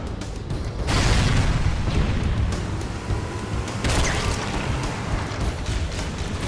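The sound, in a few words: ship engines exploding in Halo video game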